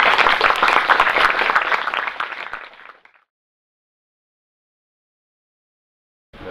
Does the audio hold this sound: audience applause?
yes